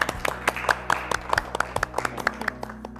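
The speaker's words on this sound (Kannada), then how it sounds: "ಚಪ್ಪಾಳೆ" Applause from a small group on a cooking game show, a scattered run of sharp hand claps at an uneven quick rhythm, fairly close and moderately loud.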